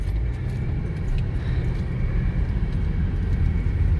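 A 2018 Jaguar F-Pace rolls steadily through an area with speed bumps, giving a dense, constant low road rumble and engine drone from inside the cabin with no distinct bump impacts standing out.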